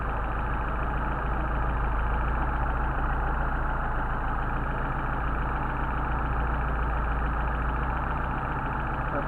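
Mercedes 190SL engine with Solex 44PHH carburetors idling steadily while the mixture screw is adjusted, a close, even, continuous rumble with no talk over it.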